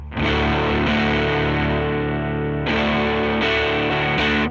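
An electric guitar plays gritty overdriven chords, loud and sustained, with a few fresh strums ringing out over the decaying notes.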